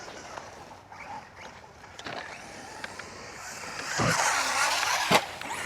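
Traxxas Mini Maxx RC truck driving and jumping, with a thin motor whine that rises and falls, sharp clatters as it lands, and a louder, busier rush toward the end.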